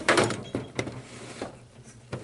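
Drawers in a workshop are pulled open and pushed shut, giving several sliding rumbles and hollow wooden thunks spaced irregularly, fairly close and moderately loud.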